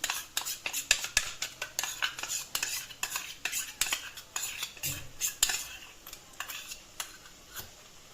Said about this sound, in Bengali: এগুলোকে নিয়ে আমি একটু জল দিয়ে মিশিয়ে নিচ্ছি।